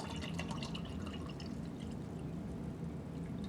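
Water poured into a container to just over 400 millilitres for an instant citrus drink, a steady, close trickle and splash that fills the short moment without pause.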